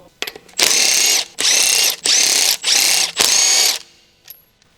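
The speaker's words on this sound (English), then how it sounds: "Use a 19mm deep socket with electric impact wrench to remove wheel hub bolts." An electric impact wrench with a 19mm deep socket removes the wheel hub bolts on a 2007 Honda CR-V, hammering loudly and up close in five quick, ratcheting bursts with short pauses between, then falling quiet.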